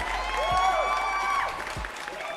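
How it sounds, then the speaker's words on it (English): Applause and crowd noise at the close of a live podcast show, a short wash of clapping and cheering at moderate loudness that fades slightly toward the end. "Round of applause for all of you."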